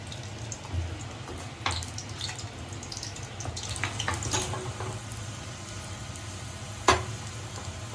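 Garlic sizzles in hot tempering oil in a home kitchen, a steady low crackling hiss with a sharp clink of utensil near the end.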